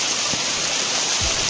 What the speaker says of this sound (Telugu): The super water fall.